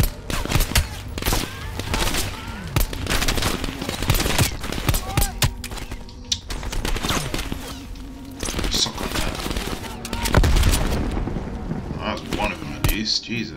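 Rapid gunfire bursts and a grenade blast from the Call of Duty: Black Ops Cold War video game, loud and dense, with repeated volleys and a heavier boom near the end, backed by game sound and music.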